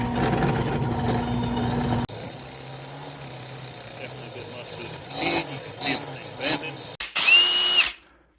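A handheld drill fitted with a step bit runs at high speed with a loud, steady whine, starting abruptly after a quieter stretch, briefly cutting out near the end and then spinning down; work on a Volvo 245.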